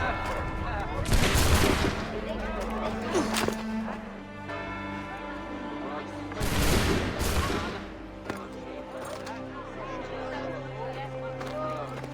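Musket volleys crack out in Assassin's Creed 3 Remastered during an American Revolution battle, two loud broad bursts of gunfire several seconds apart over a droning musical score and battle ambience.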